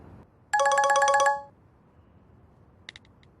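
A mobile phone ringtone plays a short, bright melodic burst of about a second in a quiet room, followed by a faint brief chime; no one speaks.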